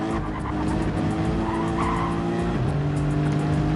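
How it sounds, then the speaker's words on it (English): Tires of a race car squeal hard through turn 12 at Barcelona, a continuous loud screech riding over the engine's drone, with the pitch dropping sharply near the end as the car goes wide. "You can hear the tires squealing as they're coming through turn 12."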